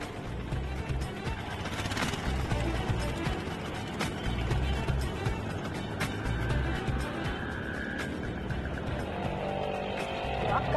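An auto rickshaw driving along the Santacruz highway, a continuous rattling engine drone with mechanical clanks and creaks from the bumpy ride, steady throughout with a few sharper knocks.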